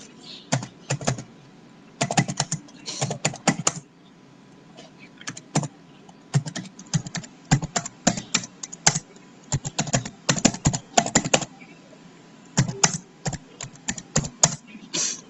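Bursts of keystrokes on a computer keyboard as a line of programming code is typed, quick rattling clicks in clusters separated by short pauses, close and steady throughout.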